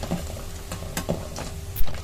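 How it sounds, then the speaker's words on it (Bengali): Crispy rice-flour fritters frying in oil, a bubbling sizzle punctuated by several sharp stirring scrapes and one louder clatter near the end, with no voices. "বড়াগুলো ভাজা হয়ে গেছে, আওয়াজটা শুনুন"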